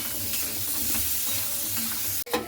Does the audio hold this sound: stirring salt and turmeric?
yes